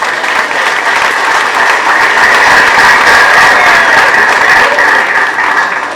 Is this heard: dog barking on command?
no